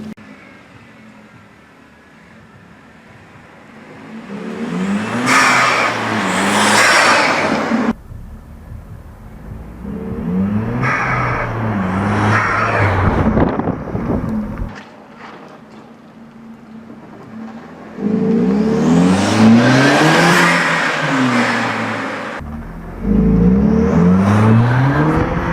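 A car engine revs up and down repeatedly while driving, rising pitch sweeps through gear changes, loud and close, with brief quieter lulls between accelerations.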